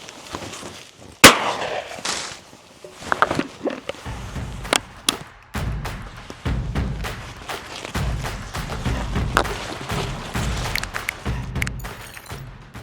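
Shotguns firing at doves during a dove hunt in Turkey near sunflower fields, a sharp, loud blast early on followed by scattered thumps and distant reports amid outdoor noise and rustling.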